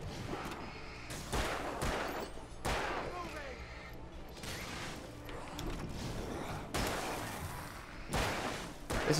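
Rapid bursts of gunfire from the Alan Wake video game, several loud volleys spaced through the scene with a mechanical clatter between, under a steady game soundscape.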